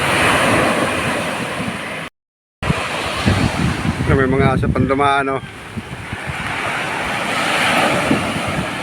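Rough sea waves wash onto a beach in a continuous roar, mixed with heavy wind buffeting the microphone; someone speaks briefly partway through, and the audio drops out for a moment early on.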